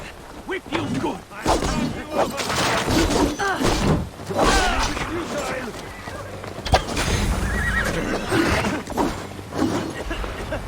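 Horses in the Assassin's Creed Valhalla siege of Paris, loud whinnies and neighs over hoof thuds and battle clatter, mixed with people talking throughout.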